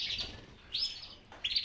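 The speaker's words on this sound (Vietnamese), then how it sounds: "Hồng Yến nha, chim đẹp lắm." Caged red canaries chirp in three short, bright bursts of high twittering, close by and clear over a faint background hum, with no talking.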